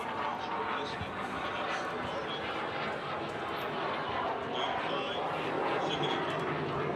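A military jet flies near Oceana naval air base in Virginia Beach during a football game, a loud, steady roar that carries through the whole stretch while a voice talks beneath it.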